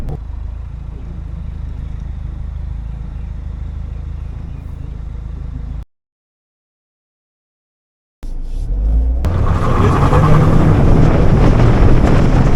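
Restored Mini Cooper being driven: steady engine and road rumble with wind noise, then a brief cut to silence, followed by louder, brighter driving noise with heavy wind buffeting.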